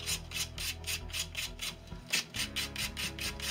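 Light sanding of a rough, hairy plywood piece after routing: steady rhythmic rasping strokes, about a dozen back-and-forth passes, close and fairly quiet, with no talking.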